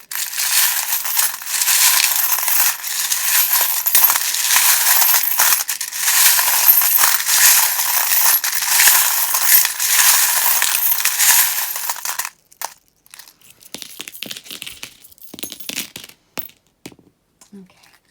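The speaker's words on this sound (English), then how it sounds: "if you do not like the sound of the charms, or if you are wearing headphones" Small tarot charms shuffle loudly and continuously for about twelve seconds as a dense rattling clatter, then give way to sparse clicks and taps.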